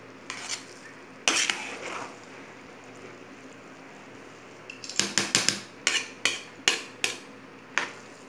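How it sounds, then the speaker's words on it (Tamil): A spoon scrapes and clanks against a pot while vegetable biryani is stirred with ghee, soft scraping at first, then a run of sharp, evenly spaced metallic knocks, with no voices. "நல்லா கிளறி விடுங்க."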